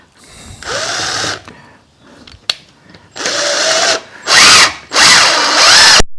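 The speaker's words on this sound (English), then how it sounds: "And then we have room to get the screwdriver in there." A power screwdriver drives a screw into wood on a Greene and Greene style garden gate. It makes four loud, close whirring bursts, each about a second long, with short quiet gaps and a sharp click between them.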